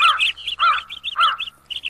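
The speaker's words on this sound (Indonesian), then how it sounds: "4 burung pipit sedang bercanda penuh keakraban." Several sparrows perched on a branch give bright, rapid chirps in quick overlapping bursts, close and clear against quiet surroundings.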